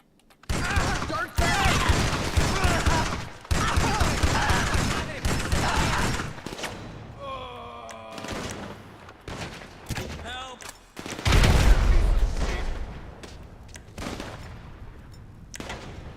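Shotgun and other gunfire inside the video game GTA 5 Online, loud broadband bursts in several clusters across the clip with quieter gaps and game effects between them; no talk is heard.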